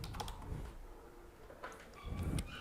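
Quiet keyboard typing on a computer while entering a search for a WordPress plugin, a few soft scattered keystrokes in short bursts, close but faint against low room noise.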